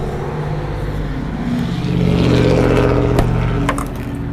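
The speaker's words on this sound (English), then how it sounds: "Sorry about that traffic noise" Road traffic passes nearby, a low engine rumble that swells as a vehicle goes by and then eases off, steady and fairly loud.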